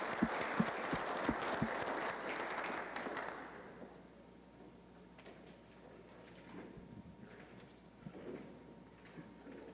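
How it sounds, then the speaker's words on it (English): An audience at the 2017 South Dakota Governor's Agricultural Summit applauds panelists, a brief burst of many hands clapping that fades after a few seconds into quiet room noise with scattered shuffling. "let's give our panelists one more round of applause"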